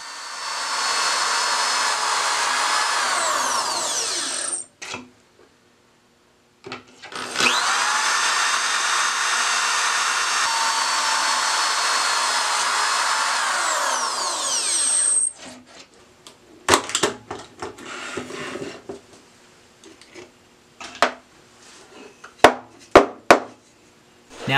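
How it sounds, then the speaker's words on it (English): A power drill whines loudly in two long sustained bursts with a short pause between, boring pocket holes in wood through a Kreg Pocket Hole Jig 320 drill guide, followed by scattered clicks and knocks of handling. "We'll insert the bit in the drill guide and then drill the pocket holes."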